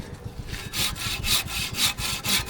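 A hand saw cuts through wood during septic tank construction, with rhythmic back-and-forth rasping strokes that grow stronger and more regular, close by and without talk.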